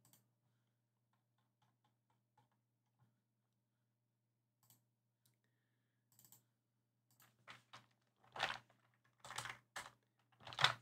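Typing on a computer keyboard, quiet and sparse at first, then bursts of louder clustered keystrokes toward the end, heard alone without talk.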